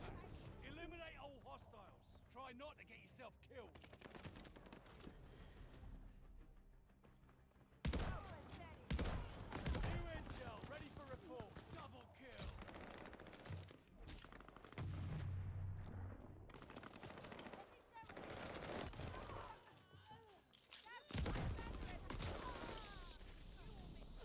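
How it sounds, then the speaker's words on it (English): A combat shotgun in Call of Duty Vanguard on the Shipment map fires in heavy booming blasts, some in quick clusters, amid chaotic multiplayer gunfire and explosions from other players throughout. "Let's try the combat shotgun this time through."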